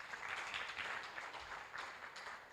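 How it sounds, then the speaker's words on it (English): An audience at a career summit panel discussion applauds a panelist. The clapping is steady and diffuse, fairly quiet and distant, and it goes on without a break for a few seconds. "Can we have a big round of applause for Vivek?"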